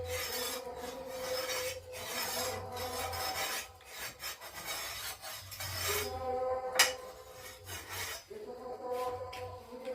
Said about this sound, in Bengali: আপনারা দেখুন কিভাবে ওই বড় মাছটাকে কাটা হয়।